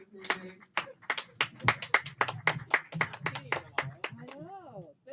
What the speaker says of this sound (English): Slow claps if we're ready.